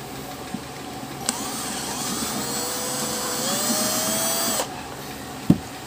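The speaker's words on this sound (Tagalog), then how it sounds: "kailangan lang natin tong butasan. Kung wala kayong drill, pwede kayong gumamit ng mga soldering iron." Drill whines steadily through plastic while boring a hole for an aquarium air hose in a DIY airlift filter, close and continuous for about three seconds, pitch wavering under load, with a sharp knock at the end.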